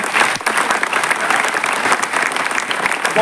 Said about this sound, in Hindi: जोरदार ताली में चाहूँगा